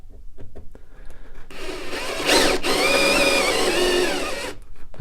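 A power drill bores a hole into wood, its motor whining up loudly after a few faint taps and holding a steady high drone for about two seconds before spinning down.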